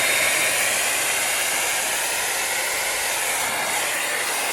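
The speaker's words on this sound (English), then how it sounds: "I'm using this famous little blow dryer." A small blow dryer blows steadily over an acrylic paint pour, a loud, continuous close-up whoosh of air and motor hiss that holds an even level from start to finish with no talking.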